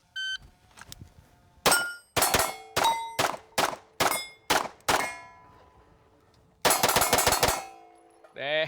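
A 2011 pistol fires a rapid string of shots, each followed by a sharp ringing clang off steel targets, with a pause and then a second fast burst of shots and pings.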